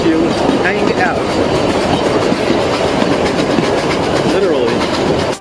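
Puffing Billy steam train rolling along its railway, a steady loud rumble and rhythmic clatter of the carriages running throughout, with a person talking briefly over it.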